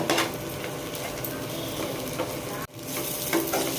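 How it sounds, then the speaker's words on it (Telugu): Pieces of ivy gourd (dondakaya) fry in hot oil as they are stirred, a steady close crackle with scraping, then a brief dropout before the sizzle resumes. "ఈ దొండకాయ ముక్కల్ని ఈ విధంగా వేయించుకోవాలి"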